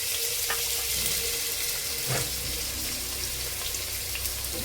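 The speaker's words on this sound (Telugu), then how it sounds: "ఇప్పుడు ఉల్లిపాయలు వేసుకుని వేయించుకున్నాను" Onions frying in oil give off a steady, hissing sizzle throughout, with a faint clink partway.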